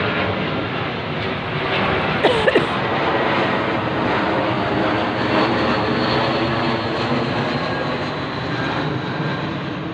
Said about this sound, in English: I'm only sorry that the mobile doesn't show how low and loud those planes actually are.